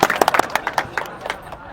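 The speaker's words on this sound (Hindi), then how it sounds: "तालियां" A short burst of clapping from a group of schoolchildren greeting a late-arriving principal, quick uneven claps close by, with voices mixed in.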